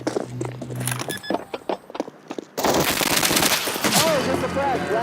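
Rapid gunfire and footstep clatter from a competitive esports shooter match, bursts of shots and impacts that turn into a dense, loud stretch of fire with ringing effects in the second half.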